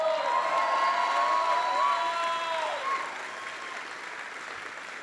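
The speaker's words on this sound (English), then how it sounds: "Give them a big round of applause." A large crowd of troops and military families applauds and cheers at an army base, a loud sustained roar of clapping with whoops, easing down toward the end.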